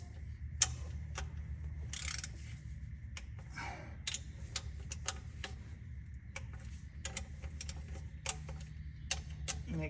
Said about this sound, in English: snug it up till the torque wrench clicks all the way around once